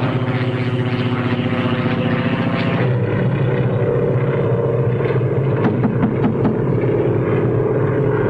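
Propeller airplane in flight, a steady droning engine roar that holds loud and continuous throughout, with the pitch shifting slightly partway as the plane moves.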